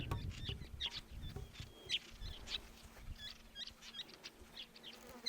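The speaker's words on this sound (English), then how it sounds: "they are black-faced wood swallows" Black-faced wood swallows give faint, scattered high chirps in open Australian desert, short calls repeating over a quiet, hissing background.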